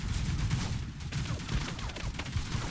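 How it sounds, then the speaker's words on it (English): A shotgun fires in the video game Plastic Warfare amid a dense, continuous clatter of gunfire and battle noise, with quick overlapping shots at a moderate level and no clear gaps. "Shotgun time."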